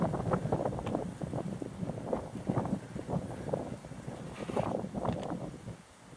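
Wind blows outdoors in the Australian outback, a low, gusty rumble buffeting the microphone in uneven swells, fairly faint throughout.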